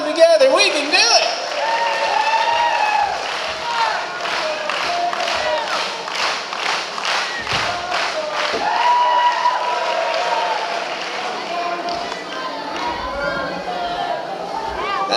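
An audience at an extravaganza show clapping rhythmically in unison, steady beats rising and settling, mixed with crowd chatter, whoops and a voice talking over it.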